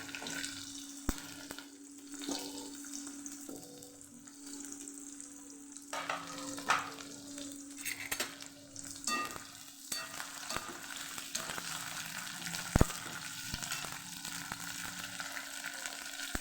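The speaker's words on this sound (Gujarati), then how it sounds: "તેલ ગરમ થઈ ગયું છે તો આપણે એમાં પહેલાં ભીંડા ફ્રાય કરી લેવાના છે બધા ભીંડા ઉમેરી દેશું" Okra frying in hot oil, a quiet steady sizzle with faint crackles and occasional stirring clicks, heard alone without talk.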